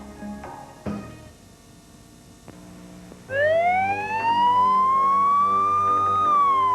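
A police siren rises in a long steady wail, loud and close, over a low background hum.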